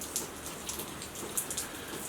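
Steady rain falls outdoors in mild weather, a soft continuous patter with a few brighter, nearby drips standing out now and then; no voices.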